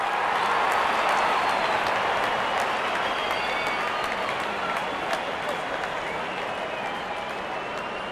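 A crowd in a cricket stadium cheers and applauds throughout a T20 match, a steady, loud wash of clapping and roar that stays dense for the whole stretch.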